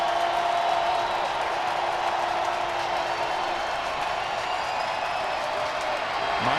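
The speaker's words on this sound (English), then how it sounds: "Crowd coming alive" Stadium crowd noise rises at a Seahawks vs Titans preseason football game in Seattle, a broad steady roar of cheering that fills the clip, with a commentator talking over it.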